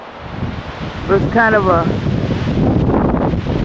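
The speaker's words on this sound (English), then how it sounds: "it's getting really windy" Wind gusts buffet a built-in camera microphone outdoors at sunset, a steady low rumble that swells and stays loud under a person talking.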